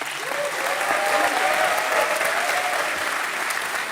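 A graduation ceremony audience for a master's class in international relations and diplomacy applauds the students, with dense, continuous clapping from a large crowd at a steady, fairly loud level and a faint cheer riding on top.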